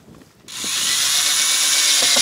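A power drill starts up after a short moment of quiet and then runs without a break, a loud, bright, steady whine that continues to the end.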